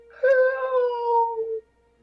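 A single drawn-out cat meow, heard from somewhere downstairs below a staircase, rising then sliding down over about a second and a half, fairly clear and alone with no talk over it.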